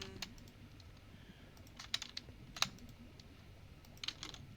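Keyboard and mouse clicking during Minecraft play, a quiet run of light taps with a few sharper clicks scattered irregularly, close and faint with no talking.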